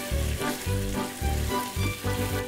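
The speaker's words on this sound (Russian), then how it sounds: "томатную пасту надо обязательно хорошенько обжарить" Tomato paste sizzles and fries steadily in a pan over a pulsing, rhythmic low backing, with no voices.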